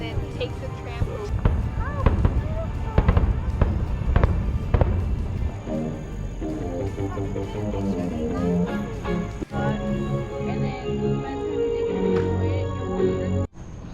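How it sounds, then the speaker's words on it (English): Fireworks bursting at a marina in Fort Wilderness: a run of sharp booms and crackles at irregular intervals, fairly close, heard over crowd noise and a voice talking. "The fireworks were really cool."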